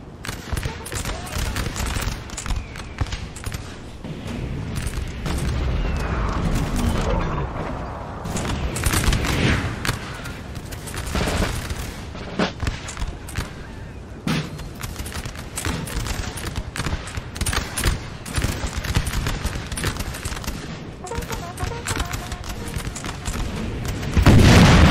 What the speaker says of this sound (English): Still, the artillery is going to be painful on this coalition.